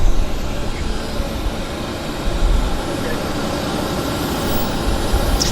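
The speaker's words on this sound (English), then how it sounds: "our 37 is now taxiing into position" A Boeing 737 jet airliner taxiing into position at Vancouver Airport gives a steady, broad engine roar and rumble heard from a distance outdoors, constant throughout with no talk over it.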